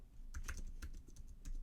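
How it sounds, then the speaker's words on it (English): Quick irregular clicks of typing on a computer keyboard, close and fairly quiet, a short burst with no voices. "So I know I got quiet when I'm typing."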